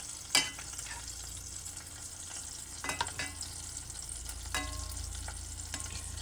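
Boiled potatoes frying in oil and butter in a pan: a faint, steady sizzle with a few sharp clicks and knocks from the pan, no voices.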